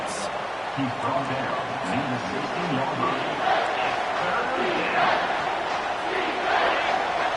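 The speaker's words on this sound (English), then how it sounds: "This crowd rising up," Stadium crowd in a football video game, a broad continuous roar of many voices swelling steadily, with a commentator's voice talking over it throughout.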